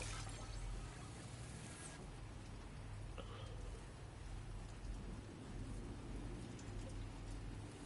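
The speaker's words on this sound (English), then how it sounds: "It wasn't raining when we got here, it was nice. Is it raining now or something?" Steady rain falls in a stormy outdoor scene in the video game Death Stranding 2, a dense, even hiss of downpour with low rumbling beneath, heard faintly throughout.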